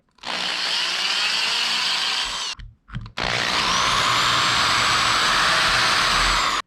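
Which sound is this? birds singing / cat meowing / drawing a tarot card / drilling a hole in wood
drilling a hole in wood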